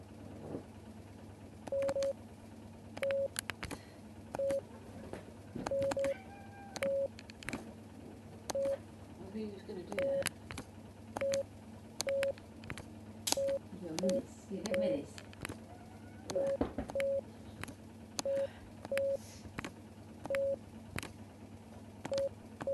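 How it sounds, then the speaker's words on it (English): Morse code signal sent in the game Martha Is Dead, short beeping tones of dots and dashes in irregular groups, clear over a low steady hum, with occasional speech in between. "press A to send a dot. Press and hold down briefly for a dash"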